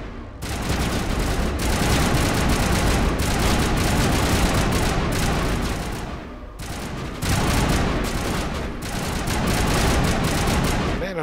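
Sustained rifle gunfire in Mass Effect Legendary on Insanity difficulty, dense rapid bursts roaring nearly continuously for about six seconds, a brief lull, then another long volley with booming impacts.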